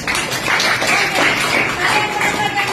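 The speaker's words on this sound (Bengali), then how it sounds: "হাততালি।" Children in a classroom clapping together, a dense, steady burst of applause that keeps going at an even level throughout.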